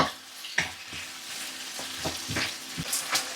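Sauce stirred through food in a pan gives a soft sizzle with a few scraping strokes and clinks from the utensil at irregular moments, close by, with no talk.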